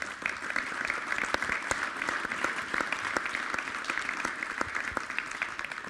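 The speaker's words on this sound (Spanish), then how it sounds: "Le damos un aplauso a Jorge." Steady, dense applause from an audience at a Spanish-language presidential advisers' panel debate, with many hands clapping at once for about six seconds at an even, sustained level.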